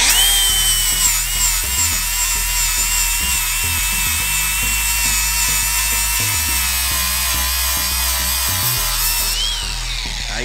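Power grinder working weld high spots on the steel frame of a vintage three-wheeler ATV, a loud steady whine with shifting pitch and low rhythmic thumps throughout, no talking.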